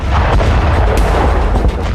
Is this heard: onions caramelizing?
no